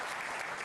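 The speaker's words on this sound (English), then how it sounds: "Stéphane is getting a round of applause in here in Jupiter" A short round of applause in the Jupiter control room at the ESA Juice mission launch, dense steady clapping from a group of people, heard alone.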